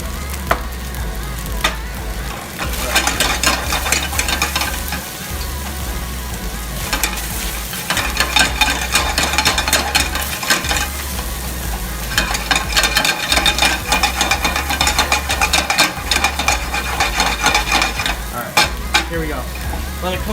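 Udon noodles fry in a hot pan with a steady sizzle, broken by repeated scraping and clattering as they are stirred, close and continuous with no talk.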